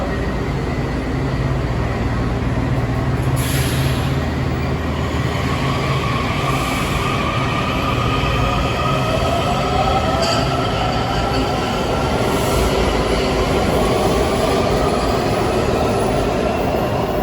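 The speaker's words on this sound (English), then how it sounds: "We have this Franconia-bound Metro with the newer cars delivered in the last few years." A Franconia-bound Washington Metro subway train of newer cars at Crystal City station, loud and close, rumbling steadily with wheel squeal and rail clatter throughout.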